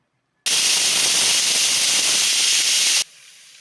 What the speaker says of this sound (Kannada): ಈಗ ಒಂದು ವಿಜಿಲ್ ಆಗಿದೆ